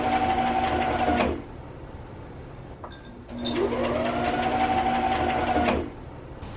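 A sewing machine stitches a ruffle onto a shirt in two steady, loud humming runs with a short pause between them, and no voices are heard.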